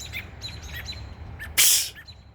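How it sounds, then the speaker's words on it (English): Several American robins call in a backyard near a nest, a string of short chirps and tweets at moderate distance over low background rumble, with one sharp, louder burst near the end. "There's all kinds of robins."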